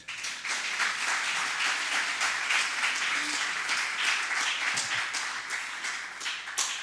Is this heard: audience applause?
yes